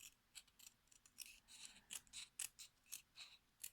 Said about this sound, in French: dans une chute de papier, je vais découper 3, ouais, 3 petites bandes